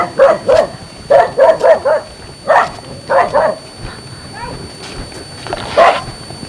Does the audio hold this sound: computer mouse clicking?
no